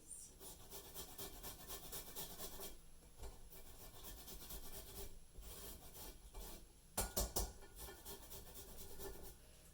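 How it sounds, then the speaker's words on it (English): Fresh ginger being finely grated, giving a soft, continuous scraping rasp with uneven strokes, close but quiet, with a brief cluster of sharper scrapes partway through and no voices. "you'll see how finely grated this ginger is"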